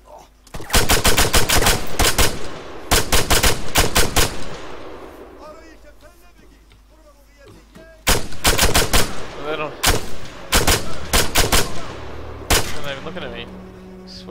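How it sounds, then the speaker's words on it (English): Bursts of automatic gunfire in Arma 3, loud and close, fired in rapid strings with a quieter pause midway before several more volleys and single shots follow. "I can hear him shooting."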